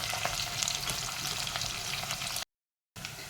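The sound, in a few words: onion, curry leaves and cumin frying in oil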